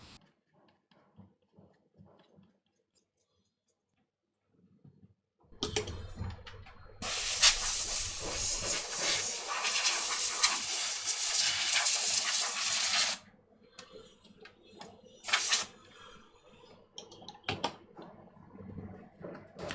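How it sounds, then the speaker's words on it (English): Compressed air blasting dust out of a disassembled PS3, a loud sustained hiss lasting several seconds, then a short second burst, with quieter handling noises before and after. "I must clean all the dust using a soft brush and compressed air."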